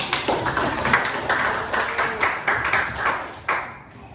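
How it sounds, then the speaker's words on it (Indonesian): A Grade 8 class claps hands together in a classroom: a rhythmic, patterned group clap with regular accented beats, fairly close, ending abruptly. "Oke, tepuk tangan."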